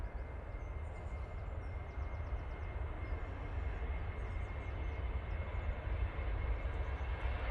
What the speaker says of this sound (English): We'll get the Ryanair landing